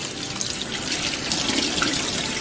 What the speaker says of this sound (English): take this opportunity to give the plant a nice little wash